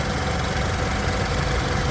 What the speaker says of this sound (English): You can hear it idling very happily here.